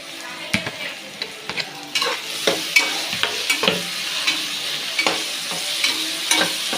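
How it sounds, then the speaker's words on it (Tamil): Onions and tomatoes fry in a pan with a steady sizzle, broken by repeated scraping strokes of a spoon stirring, close by and with no talk. "இப்போ வந்து வெங்காயம் வந்து நல்லா வதங்கிருச்சு இப்போ நம்ம வெட்டி வச்சுருக்கேன் தக்காளி அதில் சேர்த்துக்கலாம்"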